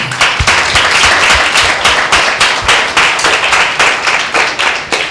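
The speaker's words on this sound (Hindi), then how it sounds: "जोरदार ताली बजाएंगे" Loud, steady applause from a church congregation at a Sunday meeting, many hands clapping close and continuous with rhythmic surges throughout, no voices over it.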